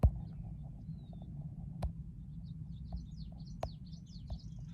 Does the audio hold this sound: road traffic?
no